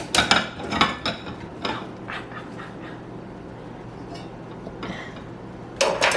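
Glass canning jars clink and knock against metal as they are lifted into a water bath canner while cherries are hot-packed, with sharp clusters of clinks at the start and end and quieter handling in between.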